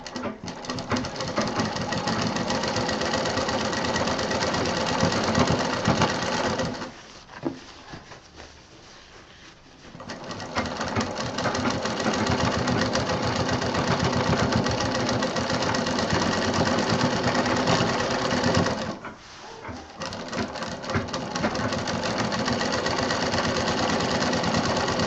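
Sewing machine stitching a sling bag, a loud, fast, steady mechanical chatter running close by in two long stretches, each broken by a brief pause of a few seconds, with no voices.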